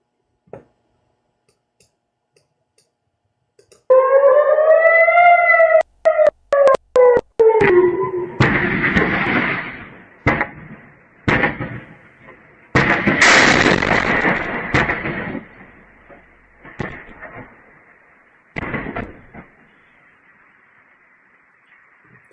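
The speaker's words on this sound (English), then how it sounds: "This is a missile from Hezbollah attacking in northern Israel." An air raid siren wails with a rising and falling tone during a Hezbollah missile attack in northern Israel, followed by a series of loud, rough booming bursts that fade out with quieter rumbles.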